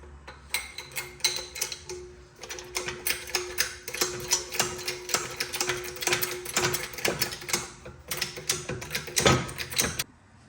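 Ratcheting clicks of a jack raising the lower control arm on a 2005–2011 Audi A6 Quattro during a suspension overhaul, a steady run of close, sharp mechanical ticks and clanks lasting about ten seconds.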